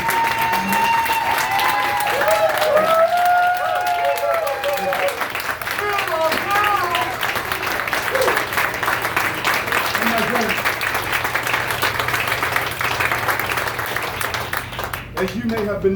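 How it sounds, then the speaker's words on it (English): Audience giving a sustained round of applause, loud and continuous clapping with crowd voices and cheering mixed in, lasting throughout before tapering at the end. "Please give them a round of applause."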